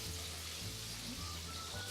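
Quiet, steady sizzling of Russian/Ukrainian meat patties frying in hot oil, a continuous crackling hiss with no voices.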